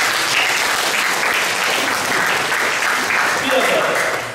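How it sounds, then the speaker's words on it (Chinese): Warm, sustained applause from an audience at the opening ceremony of an art retrospective exhibition, a dense even wash of clapping that holds steady for several seconds, with a few voices faintly mixed in. "我们是不是要热烈掌声好吗？"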